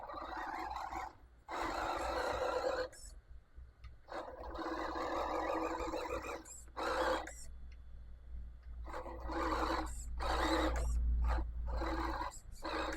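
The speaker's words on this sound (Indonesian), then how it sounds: "suara motornya kasar banget ya teman-teman" Rough-sounding motor of an RC Land Rover Series III, Pinecone SG1009: buzzy electric whirring in repeated bursts of a second or two, broken by brief pauses, close and fairly loud with no talk.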